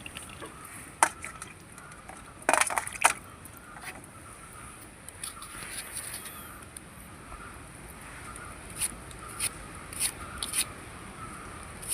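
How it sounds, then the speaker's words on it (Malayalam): A few sharp knife taps on a cutting board as onions are chopped, scattered and irregular, including a quick cluster, over quiet room background. "ഉള്ളി അരിയുന്നേ."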